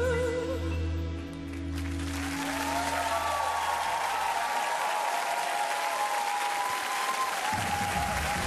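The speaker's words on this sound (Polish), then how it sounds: "Wielkie brawa" A live audience at The Voice of Poland breaks into loud, sustained applause as the final note of a live performance of a song fades. The clapping fills the space dense and steady for several seconds.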